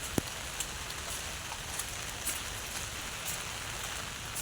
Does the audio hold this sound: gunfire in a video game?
no